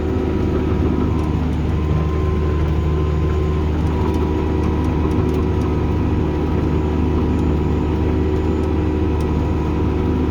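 A tractor working a field drones steadily at a constant, mid-pitched engine note, loud and close throughout with no talk, a continuous even whir of the running engine.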